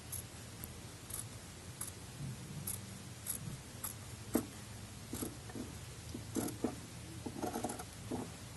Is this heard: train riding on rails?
no